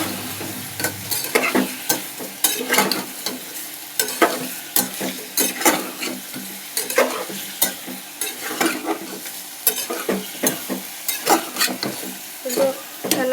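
Masala for chicken curry frying in a pan is stirred and mixed with a spatula in steady rhythmic scraping strokes over a continuous hiss of sizzling, close and prominent throughout.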